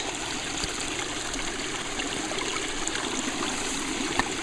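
Water flows out through an opened bypass as a steady, faint trickling and rushing stream, continuous and even, with no one talking.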